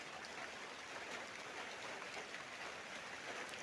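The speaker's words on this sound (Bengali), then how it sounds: "আর আমাদের এখানে প্রচণ্ড বৃষ্টি হচ্ছে" Heavy rain falls steadily outdoors, a dense, even hiss of drops on surfaces, faint and distant, continuous without pauses or voices.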